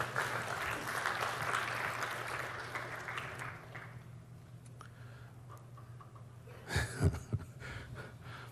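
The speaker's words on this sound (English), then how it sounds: "I heard a little bit of applause." Light applause rises from the crowd at a Build 2017 developer conference demo, then fades out after about four seconds, followed by a few close handling knocks.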